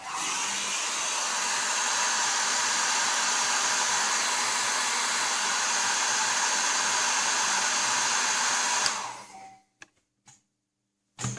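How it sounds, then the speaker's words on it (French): A hair dryer blows a steady, loud rushing airflow during assembly work on a Tamiya 1/24 Porsche 911 GT2 model kit, running continuously for about nine seconds before cutting off abruptly, followed by a few faint clicks. "Allez, un petit coup de sèche-cheveux."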